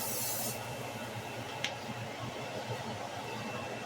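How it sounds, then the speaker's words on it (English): A short burst of cooking spray hisses onto a skillet at the start, followed by quiet background with a faint clink. "I'm gonna spray this pan"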